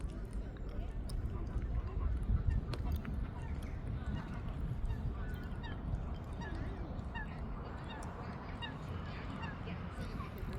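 Geese honk repeatedly on a lake over a steady wash of outdoor ambience, with calls scattered throughout and background chatter from people nearby.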